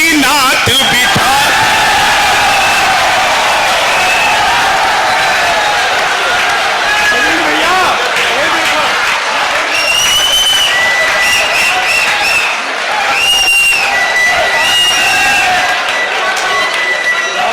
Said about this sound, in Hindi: जरा एक बार पूरा सदन हाथ उठाकर तालियां बजाए